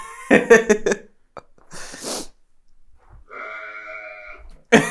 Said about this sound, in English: It's the burping goat.